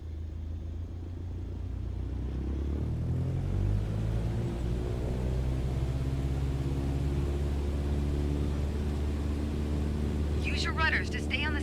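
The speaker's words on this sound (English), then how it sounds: "Apply full power and I'll walk you through the takeoff as we go" A light aircraft engine in Microsoft Flight Simulator 2020 winds up to full power for takeoff, a steady loud droning rumble that climbs in pitch as the plane gathers speed.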